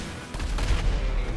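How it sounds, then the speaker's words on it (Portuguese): In GTA V, an RPG is fired at an armored car surrounded by gasoline barrels, producing a sudden loud blast followed by a rumbling explosion roar. "Deixa eu ver quantos tiros ele aguenta de RPG"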